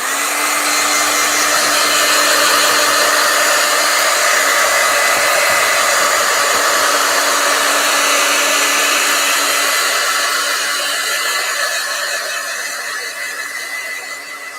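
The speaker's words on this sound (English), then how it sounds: "I'm going to hit these with the hair dryer." A hair dryer blows steadily and loudly for nearly fifteen seconds, used to dry a freshly made piece, its broad whooshing roar holding constant before easing slightly toward the end, with no talking.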